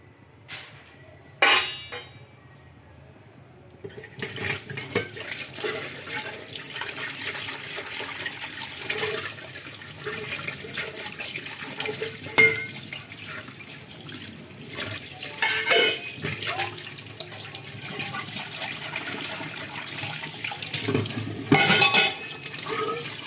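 Tap water runs steadily while a greasy steel container lid is scrubbed and rinsed at a sink, with occasional clinks and splashes rising over the continuous flow.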